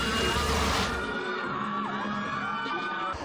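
A mall fan event where a crowd of fans screams, whoops and cheers for Kapuso TV stars, a loud, dense wall of shrieks and shouts that holds steady throughout, with a bang near the start.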